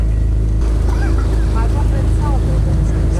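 A somewhat larger, faster motorboat arriving on the water in Montenegro, its engine a steady loud hum with a churning wake throughout, while people talk over it.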